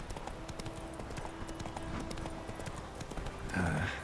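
Roach the horse's hooves clip-clopping at a brisk steady gait while riding in The Witcher 3, moderately loud and continuous, with a louder burst of noise near the end.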